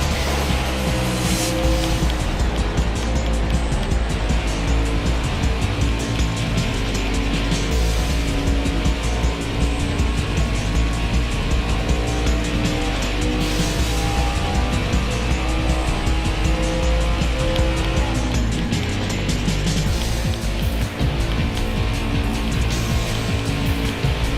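Race cars on the final lap in the Slipstream racing video game: a continuous loud engine roar with rising and falling revs, tire squeal and skidding throughout, dense and unbroken with no voices.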